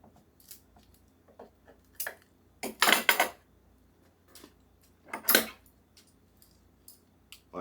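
Scissors snip and crunch through dried chilies, a few louder rustling cuts among quieter clicks, close up in a quiet room.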